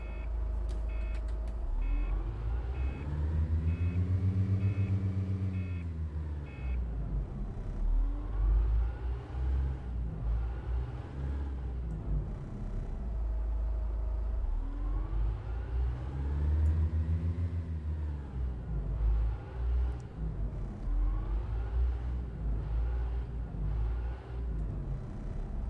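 MCV Ivacity bus from a video game, its engine droning steadily while driving, with two rising-and-falling acceleration sweeps through the gears and an occasional beeping tone.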